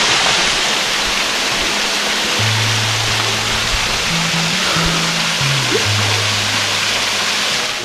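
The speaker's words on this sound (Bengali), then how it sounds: "এই হলো মাউসেডং ওয়াটারফল।" Steady broadband roar of Mawsawdong (Wei Sawdong) waterfall in Meghalaya, a continuous close, loud rush of falling water with no voices over it.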